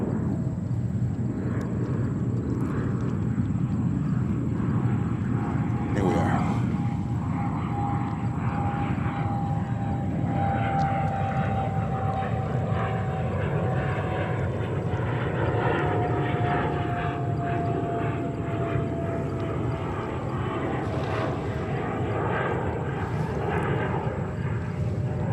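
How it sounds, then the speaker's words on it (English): A heavy Delta Boeing 767-300 jet arriving at JFK Airport from Lisbon, its engine roar steady and loud throughout with a slowly falling whine, no speech. "We have another heavy 767-300 from Delta coming in from Lisbon in Portugal."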